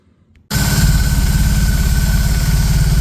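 A BMW R18 motorcycle engine with a freshly flashed BTMOTO ECU starts up after a brief near-silence, then settles into a loud, steady, rumbling idle with a pulsing low throb held close for the rest of the clip.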